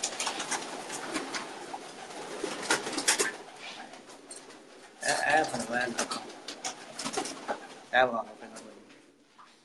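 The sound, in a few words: pigeons cooing on a rooftop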